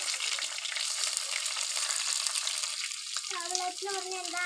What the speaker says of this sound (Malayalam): ഉള്ളി ഇട്ട് കൊടുക്കാം.